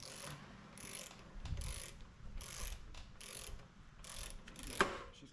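Ratchet drive turning on a Honda FC600 tiller gives faint, evenly spaced clicking strokes, repeated about twice a second and heard close but quietly.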